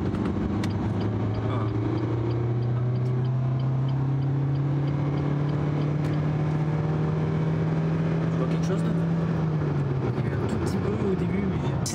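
A car engine is held at full throttle in third gear on a French motorway, a steady rising drone that climbs slowly for about ten seconds and then drops away, heard from inside the cabin with a voice talking over it.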